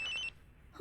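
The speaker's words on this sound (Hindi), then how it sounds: "कब से फोन रिंग हो रहा है, उठा क्यों नहीं रही थी?" Telephone ring with a repeated electronic trill in a short burst, near and clear, then a brief pause and the start of another ring.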